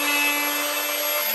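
Roof skylight panel being trimmed at the edges, a continuous bright sawing rasp with a steady pitch, close and uninterrupted for the whole moment.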